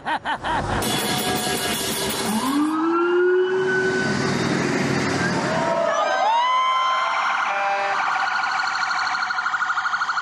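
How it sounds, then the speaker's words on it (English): Several emergency sirens wail and whoop loudly, their pitches sweeping up and down and overlapping as vehicles pass by close. "the sirens of speeding VIP motorcades"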